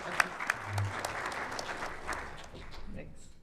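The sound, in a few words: audience applause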